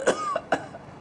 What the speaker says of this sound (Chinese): 岁数大了，天儿一变就咳嗽的更厉害